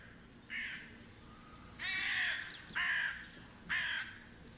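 Jackdaws call out nearby in four short, harsh bursts, sharp 'tchack'-like caws spaced about a second apart over a low background hum.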